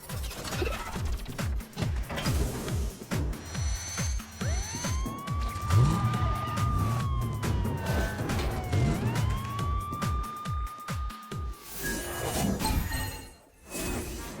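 A cartoon fire engine siren wails in long rising and falling sweeps through the middle of the clip, over busy animated sound effects and background music, with no talking.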